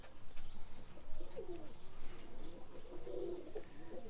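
Pigeons coo softly in low, throaty bursts while landing to feed, faint and somewhat distant against a steady background murmur.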